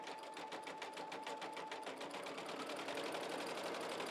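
A machine-embroidery run stitching wing-needle work with metallic thread: a fast, steady mechanical chatter of needle strokes, continuous and close, with an even hum throughout and no talk.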